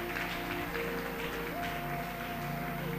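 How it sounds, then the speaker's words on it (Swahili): Church congregation giving applause for a young man named Jaden during a worship service, a steady continuous wash of clapping throughout with a sustained tonal hum underneath. "Tumpigie Jaden makofi mazuri"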